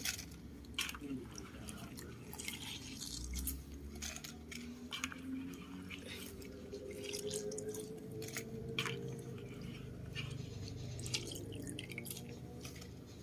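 Thai red curry paste with chilies being pounded in a mortar, faint irregular thuds and knocks repeating about once a second under a quiet background.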